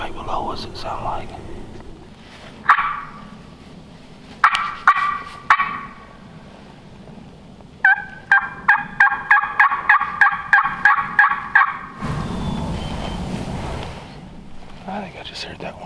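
Wild turkey gobbling outdoors during a hunt, with quick rattling gobbles and a longer run of repeated clucking calls, heard between quiet whispered talk and rustling.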